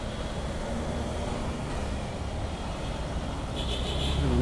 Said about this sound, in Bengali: মোবিল ড্রেন দিতে হবে মনে হচ্ছে, ইঞ্জিনের সাউন্ড শুনে